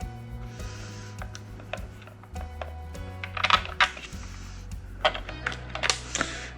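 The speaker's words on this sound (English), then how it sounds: "we'll go ahead and reinstall the Torx bolts that hold it to the frame" Torx bolts are driven back into a BMW sunroof motor frame, with faint ratcheting clicks and sharp metallic ticks and taps at close range against a low mechanical hum, no talking.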